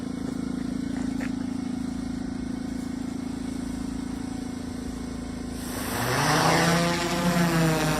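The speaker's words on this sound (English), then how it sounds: "first time we've ever used a drone to try to recover a deer" A drone flies during a nighttime deer recovery in the woods, its steady motor hum holding throughout and then swelling louder with a rising and falling whine as it passes close near the end.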